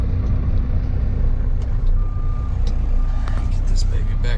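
A newer Kenworth truck with automatic transmission backing up, its reversing alarm beeping steadily over a loud, continuous diesel idle rumble nearby.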